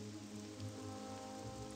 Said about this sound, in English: And the rain's back.